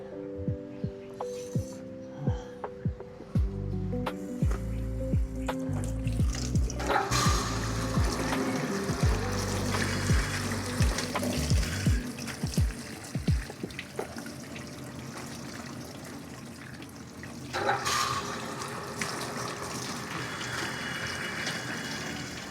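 Tap water runs and splashes while fish is washed in a kitchen, with irregular clinks and bumps under the flow, a louder gush starting partway and continuing to the end.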